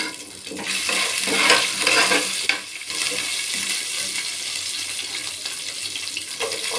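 Cashews, ginger-garlic paste and green chilies sizzle and crackle steadily in a hot pan for palak rice, with a brief scraping stir partway through.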